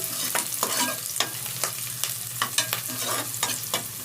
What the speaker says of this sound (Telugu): ఎర్రగడ్డలు మీరు బాగా వార్చుకోండి పచ్చి పచ్చిగా ఉంచకుండా